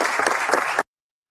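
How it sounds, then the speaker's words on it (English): A hearing room in the Senate bursts into brief, dense applause, many hands clapping together before it cuts off abruptly into silence. "And everybody bursts into applause."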